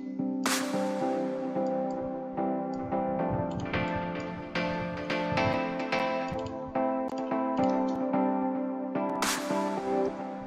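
A bright, harmonic synth line plays a series of sustained notes with a dull, muffled tone from its filter automated very low, continuous and fairly loud, with no voices.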